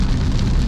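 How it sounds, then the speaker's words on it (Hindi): Steady rain drums on the body of a moving car on a road trip through South Punjab, Pakistan, a dense, continuous hiss with low road rumble underneath, loud and close throughout. "बारिश हो रही है"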